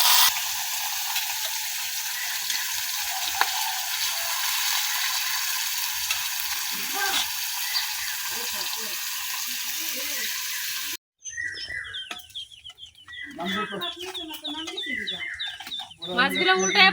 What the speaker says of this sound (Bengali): এখন আমি একটা একটা করে মাছ দিয়ে নিতেছি কড়াইয়ে।